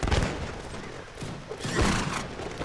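Musket volleys in a Mount & Blade Warband mod battle, several loud cracking blasts in quick succession with booming echoes and a rumbling crowd of battle noise between them.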